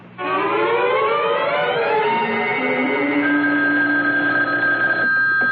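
A telephone rings loudly and continuously with a bright, warbling electronic trill held for several seconds, close and alone with no voices.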